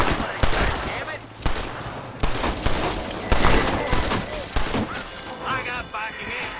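A fusillade of gunshots rings out in the Western video game Red Dead Redemption, with rapid, loud cracks and thuds in bursts under a busy mix of game voices and shouting.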